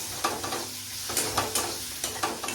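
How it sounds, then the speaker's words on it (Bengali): Prawns and spices frying in a pan for a prawn and ridge gourd curry, a continuous sizzle broken by rhythmic scraping strokes of a stirring spoon, close and moderately loud. "দিয়ে এইভাবে আমি নাড়াচাড়া করে নিচ্ছি"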